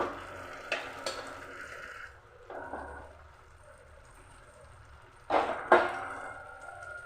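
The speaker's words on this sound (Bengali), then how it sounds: "ঠকবক করে ফুটতেও শুরু করেছে দেখুন একটা আওয়াজ হচ্ছে" Palm (taal) pitha mixture heating in a pot, making soft, quiet bubbling with a few sudden louder pops and splutters spaced across the stretch.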